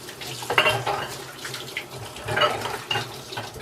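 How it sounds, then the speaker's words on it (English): Sticky hands are rinsed under a running kitchen tap while baking a pineapple upside-down cake. Water splashes and gushes in uneven, close bursts with a little clatter, and no one speaks. "now let me rinse my hands off. It's all sticky."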